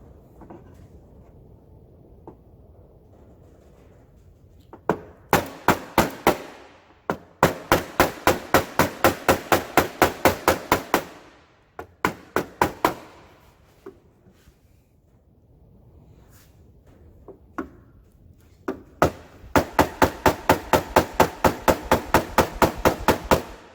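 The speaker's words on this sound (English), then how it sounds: "See how it's coming off, peeling up, being very gentle with it. Just light taps." Light chisel taps peeling a lip off a Piper aircraft door, coming in close bursts of rapid, evenly spaced metallic knocks with short pauses between runs.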